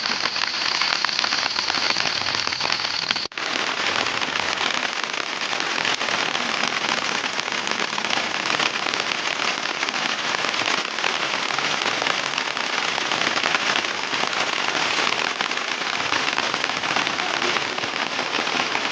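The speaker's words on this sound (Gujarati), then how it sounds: "તમે જોઈ શકો છો કે વરસાદ કેવો આવી રહ્યો છે" Heavy rain pours steadily on a surface, heard from inside a tractor, a dense, loud hiss with crackly patter that continues unbroken throughout, with no voices.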